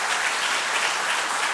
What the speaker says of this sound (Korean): 여러분 크게 박수로 한번 축하해 주시기를 바랍니다